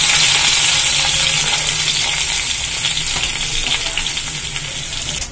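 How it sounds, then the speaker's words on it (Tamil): Broccoli and red capsicum sizzle steadily in ghee in a pan, a continuous close frying hiss with light stirring and no speech. "ஒரு ஸ்பூன் நெய் ஊத்திருக்கப்பா. இதுல லேசா வதக்கி போட்டுடலாம்."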